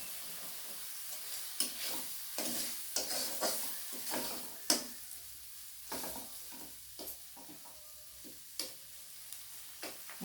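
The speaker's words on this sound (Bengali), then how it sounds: "লাল লঙ্কার গুঁড়ো, ভালো করে মশলাটাকে আমি কষিয়ে নেব।" Red chilli powder and spice masala frying in a pan for mutton and potato curry, a low sizzle broken by frequent sharp scraping and clinking of a spoon stirring against the pan.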